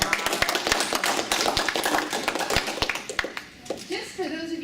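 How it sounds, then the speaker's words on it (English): Audience applause at a human dignity conference in Dunedin, New Zealand, lively crisp clapping from a room of people that thins out near the end as a voice begins speaking. "So give him a round of applause."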